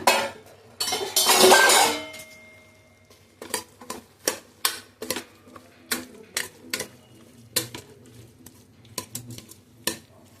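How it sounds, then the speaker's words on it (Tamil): About 200 grams of cut radish tipped into a pan and sautéed with masala, a brief loud sizzling burst followed by a rhythmic series of sharp spatula scrapes and clinks against the pan. "அதை இதோட சேர்த்து நல்லா வதக்கி விட்டுருவோம்"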